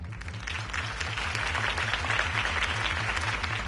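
A crowd applauds steadily at a city election campaign rally after a speech. The clapping is dense and sustained throughout and rises slightly in volume.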